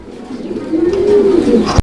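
A giant homer pigeon gives a loud, close, drawn-out coo that swells and sustains, ending with a brief knock.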